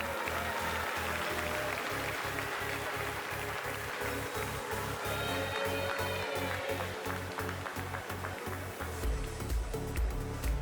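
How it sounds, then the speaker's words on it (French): Spectators at a Salers cattle show applaud the breeders after the aged bulls class, a sustained spread of clapping heard at a distance over rhythmic low thumps and a busy, noisy hall. "Vous pouvez applaudir ces éleveurs"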